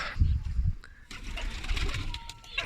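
Pigeons released from a coop in the morning coo softly with low, rumbling calls nearby, alongside faint rustling and flapping sounds.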